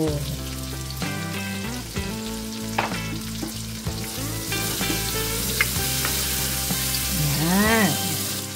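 Tomatoes and chilies fry in a pan for spicy shrimp paste, a loud continuous sizzle and crackle over a faint tonal background of music.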